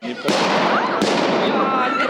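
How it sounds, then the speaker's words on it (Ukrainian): Loud pyrotechnic blasts crack out during a medical rescue competition, two sharp bangs followed by sustained dense crackling and booming, with voices partly buried underneath. "До того ж на місці і досі чутно вибухи."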